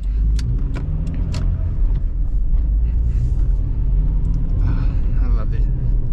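A 2006 Honda CR-V with a five-speed manual transmission driving, its engine and road rumble forming a steady low drone under someone talking inside the cabin, with occasional small clicks and rattles.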